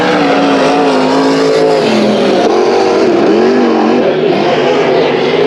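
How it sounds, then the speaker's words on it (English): Race Saver sprint cars roar around the oval at Bakersfield Speedway during a heat race, a loud, continuous pack of engines rising and falling in pitch as the cars work through the corners. "Race Saver Sprint Cars heat race."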